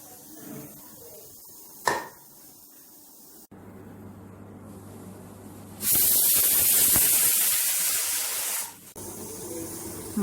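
Pressure cooker cooking lentils, vented with a loud, steady close hiss of steam lasting a few seconds, preceded by a lower rumbling hum and a sharp click.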